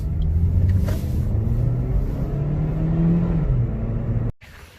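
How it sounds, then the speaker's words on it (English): A base-model 2017 Suzuki Swift makes a fast takeoff, its engine rising steadily in pitch through the rev range, heard close from inside the car before the sound cuts off abruptly. "I'm just going to do a little bit of a fast takeoff just for you guys to see how peppy it is"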